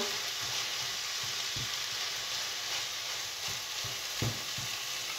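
Ground beef fries in a pan with a steady broadband sizzle, broken by irregular soft scraping knocks as a utensil stirs the meat, close and continuous without any voices.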